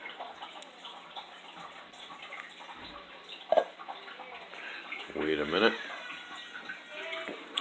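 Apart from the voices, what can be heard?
cold water from the fridge poured into a can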